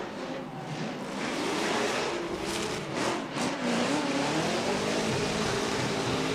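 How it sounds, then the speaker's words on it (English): A Formula Drift pro competition car sweeping wide through an outside zone, its engine revving hard and continuously with a loud, sustained roar, tire noise and rising and falling pitch. "And now coming through into that second outside zone, Chris Forsberg swings wide, takes out that outside clip."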